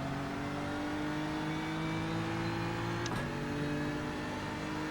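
GT3 race car in iRacing at Spa powering out of the last chicane, a loud continuous engine drone climbing steadily in pitch with a brief shift blip near the end, alone without talk.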